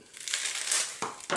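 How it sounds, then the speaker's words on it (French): Scissors snip through baking paper for lining a cake tin, giving a short, crisp crinkling cut with a couple of sharp paper snaps near the end, close and fairly quiet. "On prend la mesure et avec des ciseaux,"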